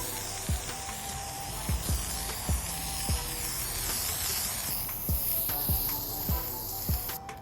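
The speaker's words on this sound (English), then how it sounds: "Did about 2 layers of the zinc chromium spray." Zinc chromate spray paint hisses steadily and loudly onto a motorcycle fuel tank being restored, with soft regular thumps sounding through the spray.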